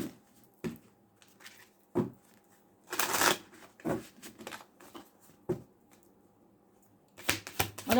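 Tarot cards being shuffled by hand in bursts of crisp riffling and soft slaps against a table, several separate shuffles with short pauses between, close and clear with no talking.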